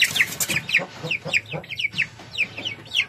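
Dumpo-line gamefowl chicks cluck and peep in a quick, repeated series of short chirping calls, close and fairly loud, with no talk over them.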